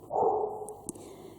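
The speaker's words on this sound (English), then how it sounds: "sorry for the dog, by the way." A dog barks indoors, one loud bark early on followed by a fainter, shorter yelp about a second later, close by and with no talking.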